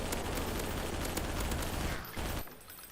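Rapid SMG fire in Garry's Mod, a dense burst of automatic shots that runs for about two seconds and then cuts off, leaving a faint tail.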